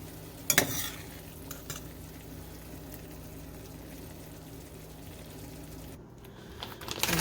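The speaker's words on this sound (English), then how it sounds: "I'm going to take my meat sauce and just kind of spoon it around" Meat sauce for a veggie rotini with ground turkey is spooned around a pan, giving soft scraping and stirring over a steady low sizzle, with a sharper clatter near the start and at the end.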